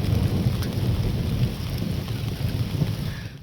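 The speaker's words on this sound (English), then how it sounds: "to film the sounds of the thunderstorm" A thunderstorm rumbles with deep rolling thunder over steady, dense rain falling on surfaces outdoors, loud and continuous with no voices.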